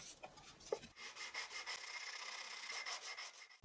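Fine 220 grit sandpaper rubbed over old reclaimed wood by hand, soft rhythmic rasping strokes, faint and close, with no voices.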